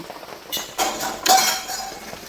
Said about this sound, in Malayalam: ആവി കയറി കഴിഞ്ഞപ്പോൾ മൂടി അങ്ങ് താഴെ പോയത്